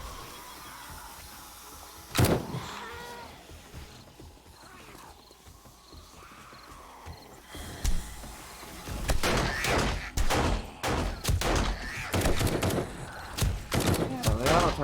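Auto turrets in 7 Days to Die shooting at a zombie horde, starting with an isolated sharp shot, then a rapid cluster of close, repeated firing toward the end over ambient game noise.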